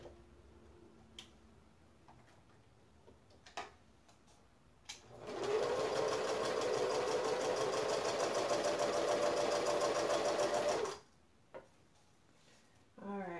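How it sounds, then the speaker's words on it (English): A sewing machine stitches the binding on a quilted placemat, a steady, fast mechanical whir running about six seconds with quieter handling clicks before and after. "I'm going to start sewing there, and then I'm going to come straight down to the little V at the bottom"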